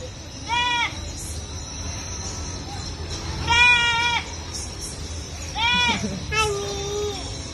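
A goat bleats in several wavering, nasal cries spaced across the clip, fairly close, with faint background noise and people talking softly between calls.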